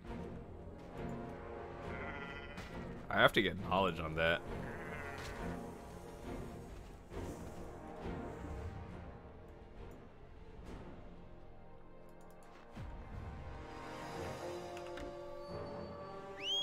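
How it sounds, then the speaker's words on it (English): A female Drieghan goat bleats in Black Desert Online, a short wavering cry heard once amid game music and ambient sound, with someone talking quietly. "Drieghan female goat."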